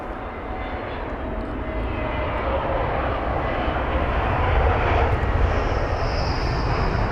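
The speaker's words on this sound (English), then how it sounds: "BA579, the flight number of this British Airways A321 Neo with the Reg Golf Tango November Echo Alpha from Venice." British Airways Airbus A321neo, brand new and arriving from Venice, passes as a loud, steady jet roar that swells slightly toward the end, broad and rumbling throughout with no voices.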